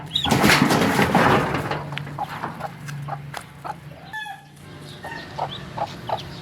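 A mother hen clucks in short, repeated bursts, close by, with ducklings and other birds chirping and peeping around her.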